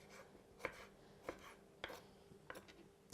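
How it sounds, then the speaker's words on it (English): A knife chops tomatoes into small dice on a board, five or six crisp, evenly spaced knocks at close range over a quiet room background. "I'll chop up the tomatoes first."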